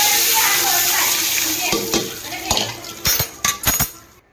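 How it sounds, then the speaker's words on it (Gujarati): Hot oil tempering poured over dhokla gives a loud hissing sizzle at first that fades over a couple of seconds, then several sharp metallic taps and clinks of a spoon against a vessel follow close by. "તો ચાલો મસ્ત આમાં છે ને વઘાર નાખી દઈએ."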